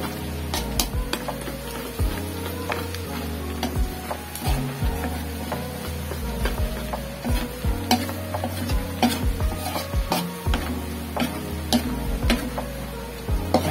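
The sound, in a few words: garlic frying in a pan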